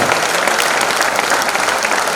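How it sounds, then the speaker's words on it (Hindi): Sustained, dense applause from an audience welcoming a guest at an Engineers Day celebration in the Civic Centre, Delhi, steady and loud throughout with no pauses. "तालियों की गड़गड़ाहट के साथ हम चाहते हैं कि मैम का स्वागत हो"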